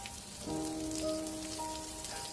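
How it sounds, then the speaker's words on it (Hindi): Rain begins to fall in a story sound effect, a soft steady patter on a surface with a faint tonal hum beneath, close and low in level, without speech. "एकदम से बारिश भी शुरू हो जाती है।"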